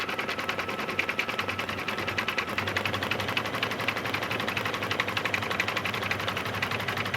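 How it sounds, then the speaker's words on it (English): A home embroidery sewing machine stitches a quick design onto workout clothing, a steady close, rapid needle rhythm humming continuously with no talk. "we're going to watch it stitch. It's a quick embroidery design."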